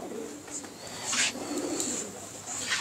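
Pigeons kept by a fancier in Faisalabad coo softly with low, rolling calls under faint background noise and some distant voices.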